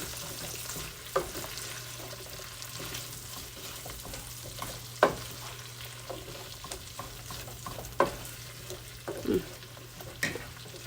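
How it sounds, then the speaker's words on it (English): Chicken with Montreal seasoning, asparagus and peppers in garlic butter sauté in a pan, giving a soft, steady sizzle punctuated by a few sharp spatula scrapes and taps, with no talking. "Saute this down."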